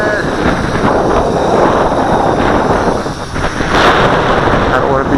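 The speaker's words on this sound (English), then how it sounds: "here goes the wind" Strong wind buffets the microphone outdoors on a gusty day while flying a Syma X8C Venture drone, a loud continuous roar with brief dips, and a voice is partly heard under the noise.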